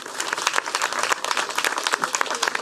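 An audience at a magician and mentalist's summer show at Pairi Daiza claps for volunteer François-Xavier, a moderate, slightly distant patter of many hands with uneven bursts throughout.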